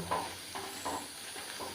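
Repeated stirring scrapes in a pan over a steady sizzle of chicken pakoda frying, with several rhythmic bursts close to the microphone.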